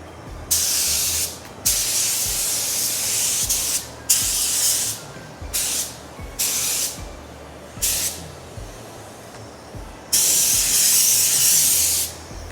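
A spray gun lays metallic paint onto a RAM restoration part in repeated hissing bursts of varying length, each starting and stopping sharply, with a longer steady pass near the end.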